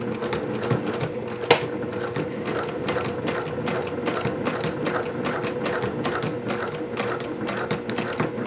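A sewing machine closes a seam on a Green Pepper 555 Village Courier Bag, running continuously with a rapid, even stitching clatter. The needle's steady mechanical rhythm is close and clear, with no speech.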